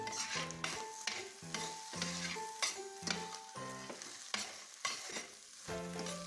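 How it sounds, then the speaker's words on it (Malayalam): Chopped cooked chicken stirred into egg and vegetables frying in a pan for chicken fried rice, with a steady sizzle under repeated scraping strokes of a utensil, close and fairly loud, no voices. "അതിനുശേഷം ഇതുപോലെ ചെറുതായി കട്ട് ചെയ്ത് ഇതിലിട്ട് മിക്സ് ചെയ്യാം"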